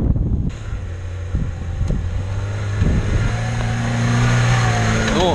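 A front-wheel-drive Moskvich car fitted with tyre chains pulls away off-road, its engine note climbing steadily as it gathers speed, with gusts of wind buffeting the microphone.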